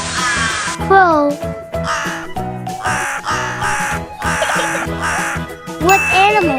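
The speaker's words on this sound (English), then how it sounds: "Crow." A crow gives a series of harsh, repeated caws, loud and close, with brief pauses between calls and a voice speaking briefly over them.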